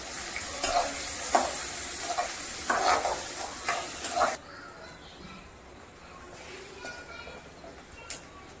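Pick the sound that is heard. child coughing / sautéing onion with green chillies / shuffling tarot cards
sautéing onion with green chillies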